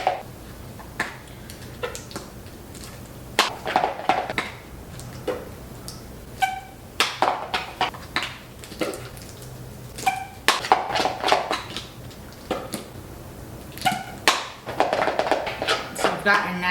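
Mayo and Dijon mustard with salt and pepper being stirred in a bowl, heard as a string of light, irregular taps and scrapes of a utensil against the dish.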